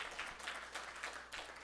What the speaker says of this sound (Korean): 우리 박수로 감사하십니다